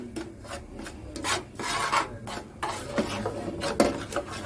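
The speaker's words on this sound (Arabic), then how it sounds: "وبعدين كل الكلام ده تقلبه مع بعضه كده" Chicken pieces worked by hand with a spoonful of sugar and spices, giving close, wet rasping and rubbing sounds in uneven strokes and squelches, with a few soft knocks against the bowl and no talking.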